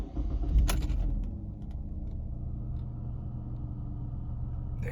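A 2013-2016 Ford Fusion car starts up, a brief loud burst followed by a steady low engine rumble idling close by, with a faint jingle of keys near the start.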